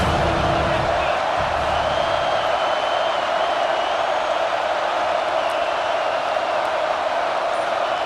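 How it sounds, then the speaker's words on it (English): Home crowd roaring in EA Sports College Football 26, a steady dense wall of stadium cheering with a band of crowd noise that stays loud throughout, slightly busier at the start. "how nice is it to have the home crowd going absolutely bananas?"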